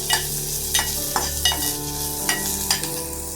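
Onions and green chillies sautéed with mustard seeds and urad dal for a brinjal side dish, stirred steadily in a pan with a low sizzle and periodic scraping strokes of a spoon, close and without talk.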